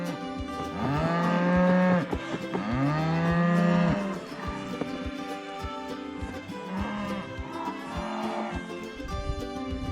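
A cow moos loudly, with two long drawn-out lows close by, followed a few seconds later by a quieter, shorter moo.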